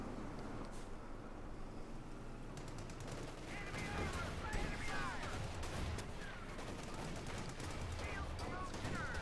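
A .50 caliber machine gun firing in Company of Heroes 2, with rapid bursts of gunfire and other battle noise packed densely over a rumbling backdrop, sustained and busy throughout.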